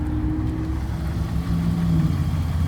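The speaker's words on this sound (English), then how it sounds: "This engine is running right now." A 2012 Ram 1500 engine idles steadily up close, a smooth continuous low hum with a faint light valve-train tick and no talking.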